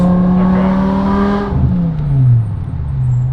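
A modified BMW M5 Touring's V10 engine revs hard toward its redline, a loud rising howl up close that peaks and then drops away as the revs fall, with no talking.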